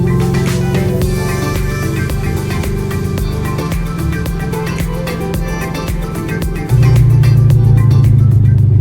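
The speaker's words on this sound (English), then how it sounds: "Exhaust is too loud, as you guys can tell from the onboards" A Chevrolet Corvette C6 running a loud exhaust with no muffler drones steadily and loudly from onboard, then jumps to a louder, deeper tone near the end as the engine note changes.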